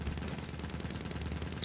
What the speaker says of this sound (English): with the LMG shooting me all the time. I think he's using the M1917 MG.